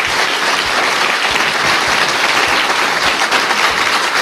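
An audience at a public talk in Kolozsvár applauds as it begins, a dense sustained burst of clapping from many hands filling the room, loud and continuous throughout.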